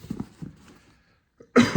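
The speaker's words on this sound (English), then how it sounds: "I apologize for my coughing." Some quiet mumbling, a pause, then a short burst of harsh coughing from a person with an allergy or cold, close to the microphone at the end.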